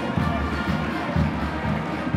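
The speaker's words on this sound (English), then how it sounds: "Let's give them a round of applause." A crowd at the opening ceremony of the East African Community police games in Kigali, Rwanda, applauds and cheers in a dense, continuous wash of clapping and voices, with a fairly close, steady roar.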